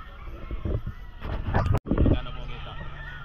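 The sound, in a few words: chickens at a pet market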